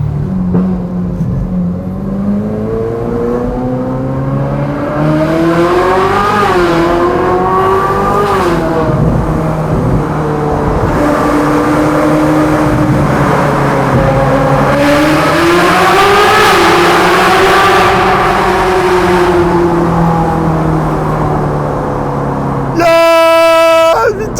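A 15-year-old used supercar descends in first gear while the driver alternately engages and releases engine braking. The loud engine note rises and falls in waves under continuous talk, and a brief honk-like tone comes at the end.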